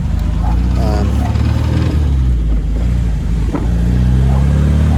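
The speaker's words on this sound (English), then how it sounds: "this is just kind of a short test drive, run it through the gears" A 1967 MGB Roadster with a Weber carburettor conversion drives steadily on a short test run. Its engine drones loud and constant, overlaid by wind and road rumble, with faint talk in the background.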